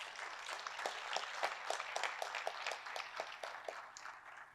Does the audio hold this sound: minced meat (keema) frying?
no